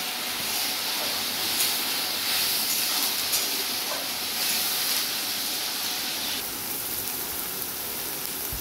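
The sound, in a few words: onion and garlic frying in oil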